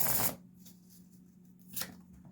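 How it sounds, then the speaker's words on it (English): Tarot cards shuffled by hand, a loud riffle at the start and another short burst later, with a low steady hum beneath and quiet between. "I'm going to shuffle one more time"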